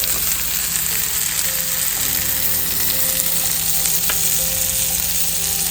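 Kerala-style murrel fish (varal) sizzling on a dosa griddle, a steady dense frying hiss that holds evenly throughout with a faint low hum beneath.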